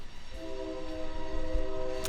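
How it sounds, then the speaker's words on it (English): A train horn sounds a sustained multi-tone blast over the low rumble of a passing train heard from inside a distribution center, with a sharp clank near the end. "Sorry if you can hear the train, it's really loud."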